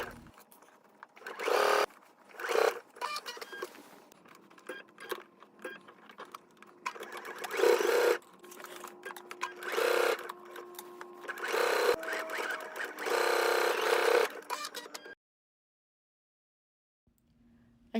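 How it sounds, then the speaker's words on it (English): A sewing machine stitches an invisible zipper onto fabric in repeated close bursts of rapid whirring, with short pauses between runs, then stops into near silence at the end. "take this to a sewing machine so you can see how to stitch this onto the fabric"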